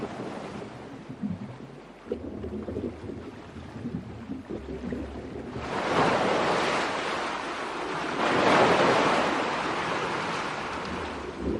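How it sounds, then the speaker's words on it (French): Ocean waves wash onto a sandy shore with steady, rushing surf and some wind buffeting the microphone, swelling louder twice as bigger breakers roll in, with no voices. "l'action des vagues dépose du sable sur le rivage"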